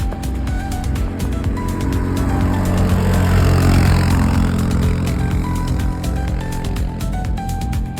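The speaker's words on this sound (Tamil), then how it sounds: "இப்போ வண்டி வருது பார்த்து" A vehicle engine rumbles steadily and loudly nearby, rising a little as it draws closer and then holding on a low drone, with sharp clicks and knocks over the top, on a road in the Manali area of the Himalayas in December.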